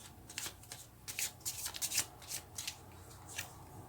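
Tarot cards are shuffled by hand in quick, soft riffling bursts, close and quiet, with a few pauses between shuffles.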